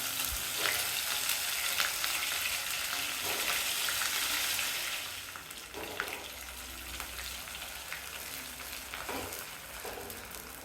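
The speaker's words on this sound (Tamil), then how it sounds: "இப்போது கத்திரிக்காய் எல்லாத்தையும் அந்த எண்ணெயில் சேர்த்துட்டு அடுப்பை லோ ஃப்ளேமில் வச்சுட்டு வதக்கணும்" Eggplant pieces sauté in oil over a low flame with curry leaves for a grandmother's kathirikkai kulambu, a steady close sizzle with occasional soft clicks of stirring, easing slightly quieter halfway through.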